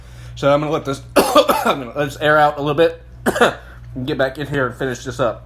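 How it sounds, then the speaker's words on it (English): A young girl coughs in the background of a smoky home kitchen after a sauté, while someone talks steadily over her throughout. "you can hear my daughter coughing in the background"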